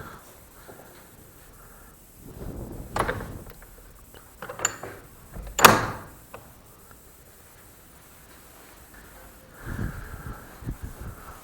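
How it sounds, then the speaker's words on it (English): Old wooden door of St Peter and St Paul church in Bardwell, Suffolk, swinging open outwards: a few creaks, clunks and a sharp latch knock in the middle, then a softer scrape near the end, in a quiet church interior. "One of the rarities here is this door opening outwards."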